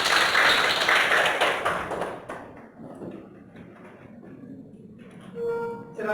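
Students in a senior high school classroom in Bandar Khalipah clap for a classmate, a dense burst of hand claps that fades away after about two seconds, leaving a quiet room with faint shuffling and a brief voice near the end.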